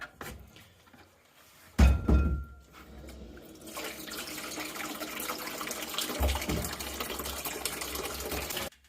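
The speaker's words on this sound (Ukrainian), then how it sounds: "Так, набрали 10 літрів води." Water runs into a 10-liter bucket, a broad splashing hiss that begins after a few thunks and knocks and keeps going steadily, at close range with no talk.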